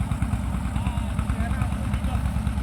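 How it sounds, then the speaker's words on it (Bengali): A large river trawler's engine chugs on a wide river, a steady low pulsing throb that runs continuously and fairly close throughout. "নদীতে আবার ট্রলারও চলে"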